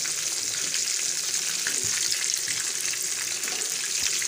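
Cauliflower pakoras (gobhi pakode) deep-frying in hot oil, giving a steady, dense sizzle and bubbling that stays close and even throughout, with no talking.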